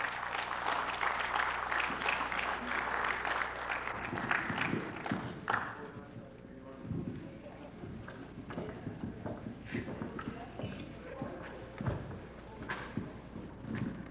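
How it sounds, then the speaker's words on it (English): Audience applause for Hamidullah at an evening lesson event, a dense crowd clapping for the first few seconds before thinning into scattered claps and room noise. "Let's get a round of applause,"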